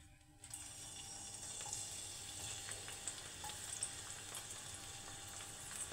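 Garlic sautéing in a pan for a chicken soup with bitter melon leaves, a steady soft sizzle beginning after a brief quiet moment, with faint clicks of stirring, fairly quiet overall.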